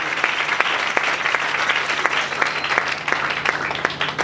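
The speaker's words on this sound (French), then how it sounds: "Est-ce qu'on peut acclamer pour le Seigneur?" Church congregation applauding and clapping steadily together, a dense, loud wash of hand claps with a few voices mixed in.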